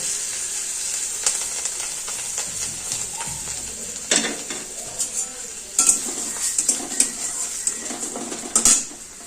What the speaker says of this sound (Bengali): এগুলোর মধ্যে দিয়ে দেবো তো এই গরম তেলের মধ্যে